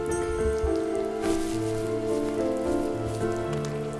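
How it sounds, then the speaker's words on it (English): Rain falls steadily in the video game The First Tree, a dense, even patter that continues throughout over soft sustained musical tones, with no voices. "The rain is coming down."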